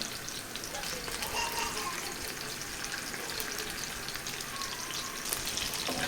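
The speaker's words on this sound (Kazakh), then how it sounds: "Жаңағыдай сыртын бір аунатып майға қуырып аламыз." Steady crackling sizzle of meatballs frying in oil, close and continuous, with occasional faint pops and clinks.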